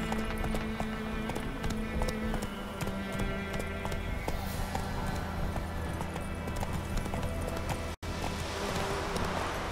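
The horse Roach galloping in The Witcher 3, a steady, rapid clip-clop of hooves at close range over a busy bed of game music and ambience, breaking briefly near the end.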